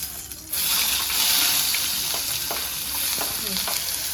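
Cheese Maggi noodles fry in a pan, a loud, steady close sizzle that flares up and runs continuously, with a few soft scrapes from stirring.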